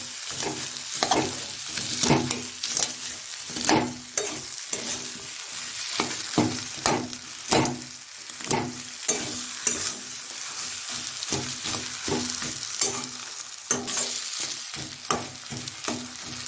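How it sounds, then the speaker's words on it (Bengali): Fish being broken up and stir-fried with potatoes in a pan for a Bengali fish fry, with a constant close sizzle and a rapid, uneven run of spatula scrapes and taps throughout. "মাছগুলোকে একটু ভেঙে দেবো।"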